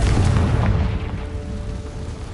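A Confringo fire spell from Hogwarts Legacy bursts in a single loud, deep boom that rolls off and fades over about two seconds.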